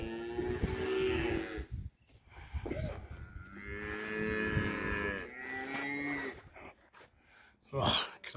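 Cattle moo repeatedly in the countryside, several long drawn-out calls close by, with short gaps and a brief breathy sound near the end.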